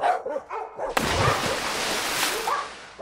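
A dog barking: a few sharp barks and yips up close, followed by a loud whooshing swish and a burst of broadband noise, then more faint yips near the end.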